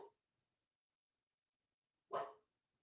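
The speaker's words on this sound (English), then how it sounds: "My dog's barking." A single short dog bark sounds in a quiet room, with the tail end of another bark at the very start.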